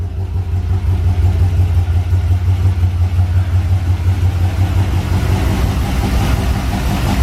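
A Chevrolet Corvette C6 with a swapped LS3 V8 runs at a steady, loud, rumbling idle on its first startup, close by and unrevved throughout.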